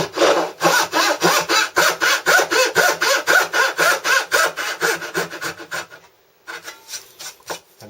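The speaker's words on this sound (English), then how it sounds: "cut right along the lines here using a dovetail saw like this" A dovetail saw cuts through wood in a steady series of close, rasping strokes, about three per second. The strokes slow and thin out near the end as the cut finishes.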